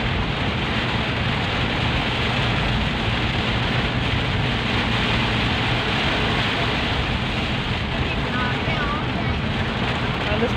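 Hail and heavy rain pelting a moving car on a drive from Clark airport toward San Fernando, a dense, steady roar of hard impacts that fills the whole stretch without letup, with voices talking inside the cabin.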